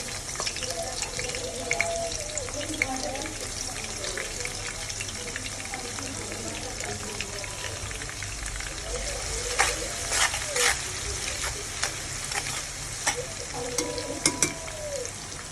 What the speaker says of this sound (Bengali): প্রথমে আমি পেঁয়াজ ভাজবো।